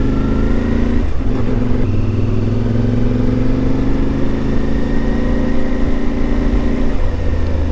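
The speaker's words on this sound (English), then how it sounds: "Gotta love the way this bike sounds." A CFMoto Ibex 450 motorcycle engine runs close and loud with a steady chugging hum, and its pitch rises and falls slightly as the bike rides.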